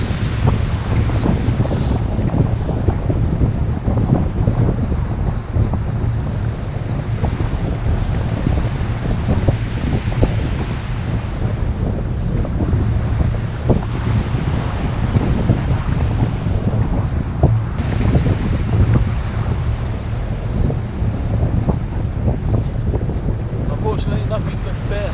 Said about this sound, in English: the wind's picked up here, it's getting a bit windy now